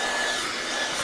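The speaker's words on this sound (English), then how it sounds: "It's a blow dryer." A blow dryer used for grooming a puppy runs with a steady, close, broadband airy roar, continuous and unbroken with no talk over it.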